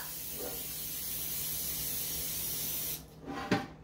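Cooking spray hissing from an aerosol can onto a cake pan while baking a Funfetti cake, a steady close spray for about three seconds followed by a brief quieter burst.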